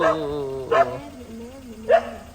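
Small hungry puppies being fed rice at night make three short, bright yips spaced apart over a steady, softer whine, near and moderately loud.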